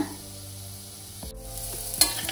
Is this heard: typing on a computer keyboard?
no